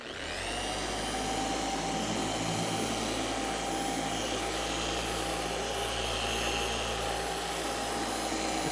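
A machine polisher runs steadily on a car's dull, neglected paint, a loud continuous whirring drone with a constant motor whine that holds from start to finish with no talking.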